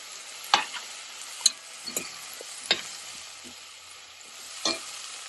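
Carrots tossed into vegetable rice frying in a pan: a soft continuous sizzle broken by several sharp scraping stirs of a spatula, moderately faint and close, with no talking.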